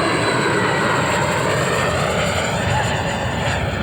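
Black Horse Viper RC model jet with a 120 mm electric ducted fan running at full throttle, a steady, loud, close rushing roar with no breaks.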